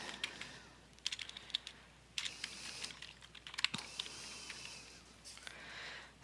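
Quiet typing on a computer keyboard, irregular bursts of key clicks with short pauses between, close and faint, entering names into an online key order system.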